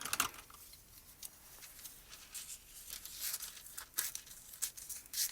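Soft crinkling and tearing noises come in irregular bursts as a thin foil sheet is slowly peeled away, quiet and close.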